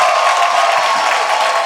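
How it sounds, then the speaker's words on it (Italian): Audience applause for actor Toni Servillo at the close of a talk: a steady, loud wash of clapping from a crowd, continuous and even throughout with no voices standing out. "non posso che chiedervi un ultimo applauso per Tony Servillo"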